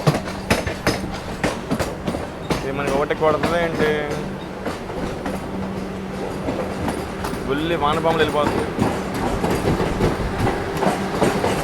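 The Vande Bharat Express on the Mysore–Chennai run rolls along the rails with rhythmic clickety-clack wheel beats and a steady rumble, while people talk over it at close range.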